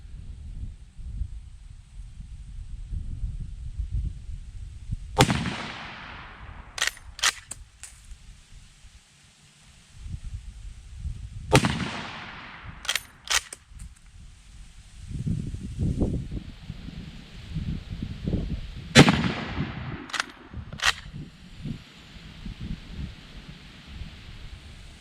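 Steyr M95 rifle shots fired at targets outdoors, several sharp loud cracks in clusters with decaying echoes, over a steady wind-like background rumble.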